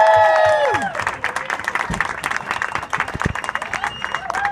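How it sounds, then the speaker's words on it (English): At a Pacific Pride Foundation mixer event, a speaker's voice gives way to a round of crowd applause with scattered cheers, the clapping fairly close and lively. "So please, another round of applause"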